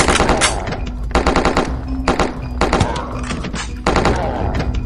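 Rapid automatic gunfire from a heavy-recoil gun in the zombie shooter game Dead Zed, several loud sustained bursts of shots separated by brief pauses, close and dominant.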